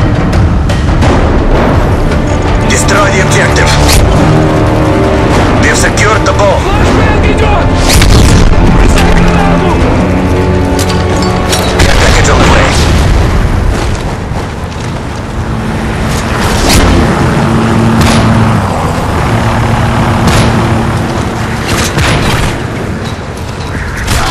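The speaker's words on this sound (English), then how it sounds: "Predator missile inbound." Heavy booming Predator missile explosions from a Call of Duty: Modern Warfare 3 Search and Destroy match, with loud, dense rumbling blasts that continue almost without break over a thick layer of game sound.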